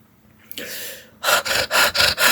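A person imitates a dog panting: one long breathy exhale, then a run of quick, loud rhythmic huffs close to the microphone.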